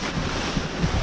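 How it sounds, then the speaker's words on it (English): Strong gusting wind buffets a microphone outdoors, a continuous loud rumbling roar with no other sounds audible. "Oh, it's so windy."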